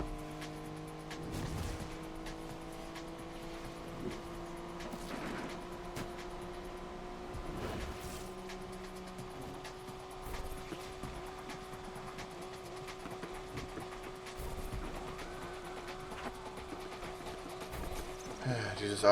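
A car in Need for Speed Unbound drives a full lap, its steady engine drone running under German commentary from a player, with occasional sharper bursts and shifts along the way.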